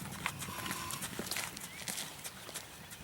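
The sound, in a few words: gaited Arab horse cantering hooves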